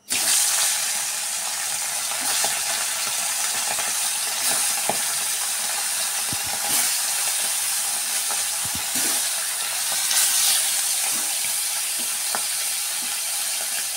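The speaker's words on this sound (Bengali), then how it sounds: "মাছগুলো লাল লাল করে ভেজে নেব।" Fish frying in hot oil in a wok, a steady dense sizzle and crackle filling the whole stretch with faint occasional clinks, and no talking.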